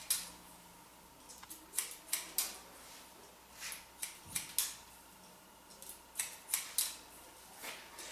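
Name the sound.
scissors trimming a man's hair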